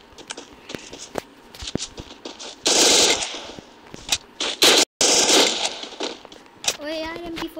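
MP40 submachine gun firing in the Garena Free Fire video game, rapid bursts and single shots with game effects, mixed with a player talking over it.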